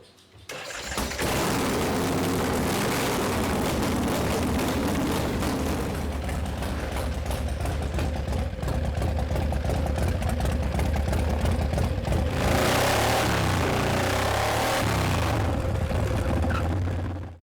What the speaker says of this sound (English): Larry takes Daddy O out for its first test run